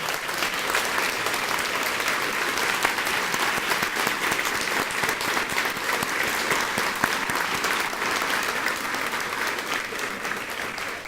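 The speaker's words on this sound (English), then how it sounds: "I'd like for you to give a round of applause to all the people that work at Corey, the teachers, the staff, principal" An audience applauds the teachers, staff and principal of Corey Elementary School in a steady, dense round of clapping that holds at an even level for the whole stretch, with no voices.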